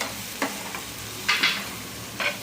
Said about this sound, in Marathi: छान सुकट मसाले छान फ्राय करून घ्यायचे